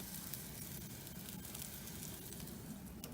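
Steak sizzles on a hot grill, a faint, steady hiss of frying fat that runs without a break and without talk.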